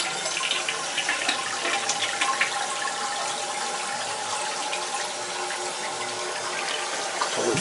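A toilet flushes in a bathroom of a Layton, Utah rental property, a continuous close rush and swirl of water that holds steady and then starts to settle near the end.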